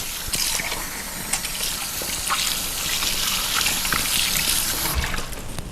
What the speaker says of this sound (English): Going to wash my hands very quick to avoid cross-contamination.